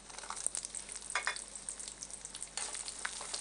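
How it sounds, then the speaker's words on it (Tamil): Chopped onions sauté in hot oil with popped mustard seeds and broken chillies for a moringa leaf stir-fry, giving a faint, steady frying hiss with a few soft stirring scrapes. "இதில் நம்ம வெங்காயத்தை போட்டு வதக்கிக்கலாம்"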